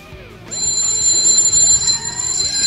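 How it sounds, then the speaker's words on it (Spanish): Alarm in the video game Sonic Adventure, a sustained high electronic tone with a pulsing secondary beep that starts abruptly and holds steady over low background game sounds. "Dios, qué buena la alarma."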